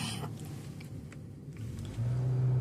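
A car engine hums and rumbles at close range with steady road noise, swelling slightly louder near the end as the vehicle drives on a residential street in McKeesport, Pennsylvania.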